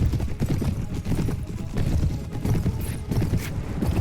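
A horse gallops in a medieval battle video game, rapid rhythmic hoofbeats thudding close and steady for the whole stretch, with faint background clatter.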